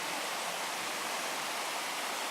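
Burbage Brook in Padley Gorge rushes in a constant broadband hiss of flowing water, steady and unbroken, with no voices over it.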